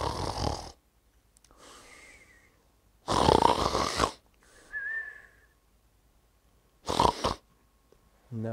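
A storyteller performs exaggerated snoring by voice, with loud rasping inhales alternating with whistling exhales, repeated three times across a quiet room.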